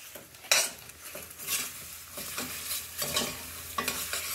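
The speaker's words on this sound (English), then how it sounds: "So I'm just going to melt some butter in there." Butter melts in a pan with a soft, steady sizzle, broken by several scraping stirs and light clicks of a utensil against the pan.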